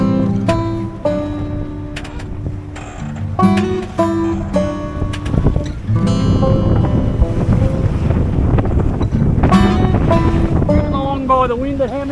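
A Jeanneau Sun Odyssey 40 sailboat under way, with strong wind buffeting the microphone and water rushing along the hull, loud and continuous throughout.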